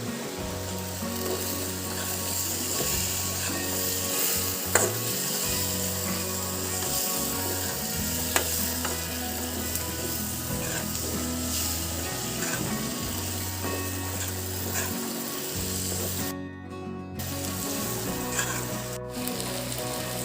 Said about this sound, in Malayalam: നേരത്തെ നമ്മൾ വേവിച്ച് വെച്ച കൊഞ്ച് ഇതിലേക്ക് ഇട്ട് ഒന്ന് മിക്സ് ചെയ്ത് കൊടുക്കും